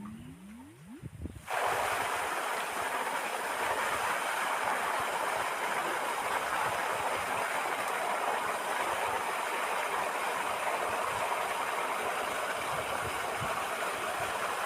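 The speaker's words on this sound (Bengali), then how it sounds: "লাইন সেট আপ করা আছে, এখন চালু দেবো মোটর" An electric motor is switched on in a room after its line is set up, jumping from quiet to a steady, loud whirring hum that runs unchanged to the end, with brief speech just before startup.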